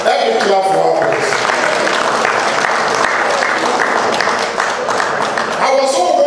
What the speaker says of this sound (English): Let me clap for her